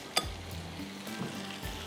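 Whole spices sizzling in hot oil in a pan for a Pakistani fish curry (machli ka salan): a sharp clink near the start, then a steady low frying hiss with a faint hum, close and moderately quiet, no voices.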